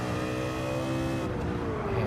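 A Ford Mustang race car with a sequential gearbox in Gran Turismo 7 holds a steady, loud engine drone with layered harmonic tones. The pitch shifts slightly partway through, and the sound continues alone without any talk.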